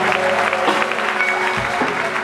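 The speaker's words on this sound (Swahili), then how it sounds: "Hebu tumpe Yesu makofi mazuri sana." A church congregation claps for Jesus in a brief, dense burst of applause, loud and close, with a voice briefly audible over it.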